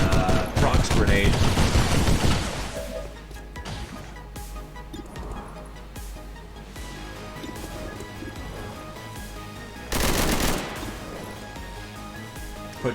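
Loud bursts of rapid gunfire in the turn-based strategy game XCOM 2: a dense volley at the start, a quieter stretch, then a short second burst.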